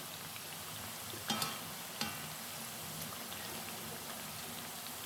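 Taro slices frying in hot oil in a wok give a steady, dense sizzle throughout, with a couple of brief stirring clinks and no voices.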